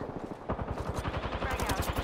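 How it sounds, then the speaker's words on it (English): Rapid automatic gunfire in the video game Apex Legends, a steady stream of fast, evenly spaced shots at close range over continuous game sound. "Opening fire. Getting shot at."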